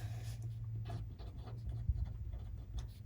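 Pen scratching out words on a fabric luggage or project bag tag, a soft continuous close scribble over a low steady hum, with no speech.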